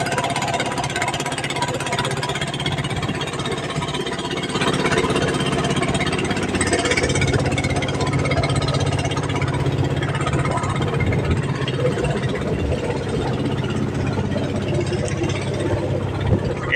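A single boat engine runs steadily on a platform at sea, a constant droning mechanical hum with a low pulsing rumble that stays loud and even from start to finish.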